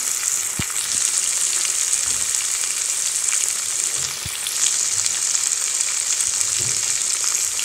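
Tomatoes and onions sauté in a pan for a tamarind lady's finger curry, a loud, constant bright sizzle with occasional thuds and scrapes of stirring, no voices over it.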